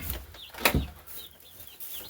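Broiler chickens from a hatchery cluck and squawk nearby, with one loud burst in the middle and softer chirps around it, no talking.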